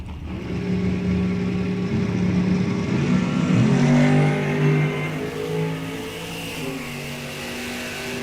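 Drag racing cars, including a Vega GT wagon, roar loudly and steadily throughout, their engines revving and droning with rising and falling pitch as they race down the strip.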